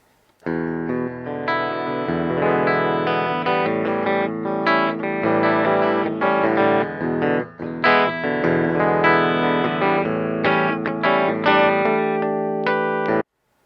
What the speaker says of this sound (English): The only pedal I used was a Vox Mystic Edge, which has a miniature triode tube inside it